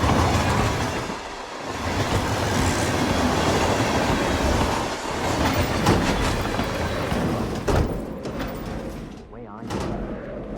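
A train rolls along in Hitman World of Assassination, a continuous loud rumble and clatter of wheels on track with brief squeals, carried on for the full stretch.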